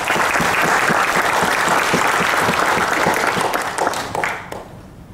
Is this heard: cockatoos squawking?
no